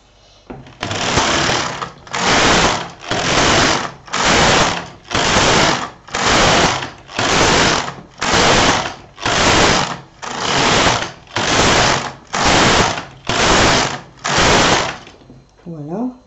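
A knitting machine carriage knitting a double edge, swept back and forth in about a dozen even, rhythmic passes, each a loud mechanical whirring rasp with brief gaps between, close and alone.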